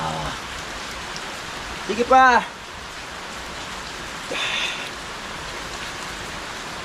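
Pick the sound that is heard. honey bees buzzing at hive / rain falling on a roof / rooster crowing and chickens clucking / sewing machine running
rain falling on a roof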